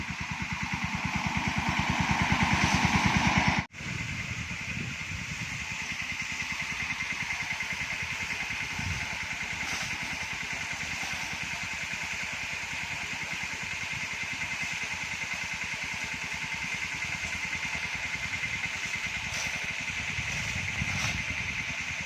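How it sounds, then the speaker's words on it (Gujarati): A small tractor engine runs loud and close, steady and rumbling throughout, with a brief jolt near the start; a mini tractor with a twin spray tank, spraying pesticide in a coconut grove. "તો અટાણે ટ્રેક્ટર આવી ગયું દવા છાંટવા"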